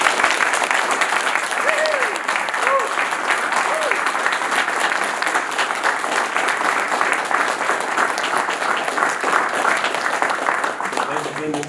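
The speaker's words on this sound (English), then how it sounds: "Please join me in giving Master Sergeant Thomas a big round of applause for his dedication to service." An audience applauds at a US Air Force retirement ceremony honoring a Master Sergeant. The clapping is dense, steady and sustained throughout, with faint voices mixed in underneath.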